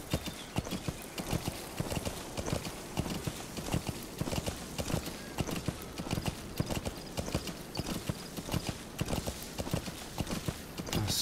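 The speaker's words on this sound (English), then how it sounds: "A stealthy approach on the horse" A horse gallops in the video game Metal Gear Solid V: The Phantom Pain, with rhythmic hoofbeats that are clear and continuous at a moderate level, plus faint snorts and whinnies and no speech.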